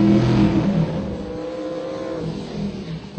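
A Pontiac GTO drag race car revs at a drag strip, a loud, deep engine note that swells at the start, then settles into a strained, shifting roar heard from a short distance.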